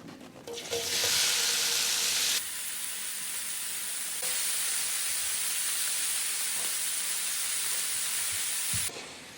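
Cubed beef browning in a hot pan for a St. Patrick's Day dinner, a loud steady sizzle and hiss that flares as the meat goes in and keeps frying evenly, with no talking.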